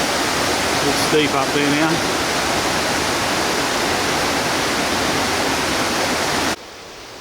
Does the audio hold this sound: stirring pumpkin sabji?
no